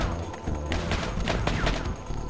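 A turret fires at the player in the video game Crusader: No Remorse: a fast sustained string of shots, a steady mid-loud barrage over game background noise, with no voices.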